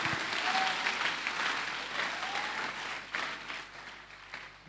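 Church congregation applauding, a dense sustained wash of clapping that swells and thins over several seconds with a faint shout or two.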